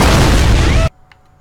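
A high-explosive blast in Fortnite: Battle Royale, a single loud, close, full-range boom lasting under a second that cuts off abruptly into near silence.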